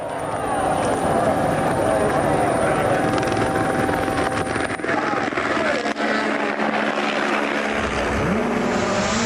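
A helicopter hovers over a WRC rally stage in Sardinia, Italy, its loud, steady rotor thrum continuous under a commentator's voice, with a car passing by near the end.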